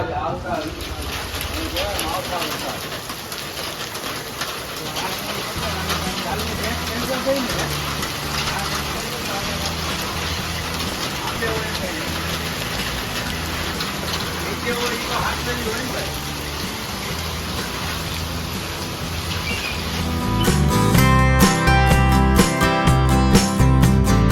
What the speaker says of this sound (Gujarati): તમે ખાલી જોવો કે આપડે વરસાદ કેવો આવે છે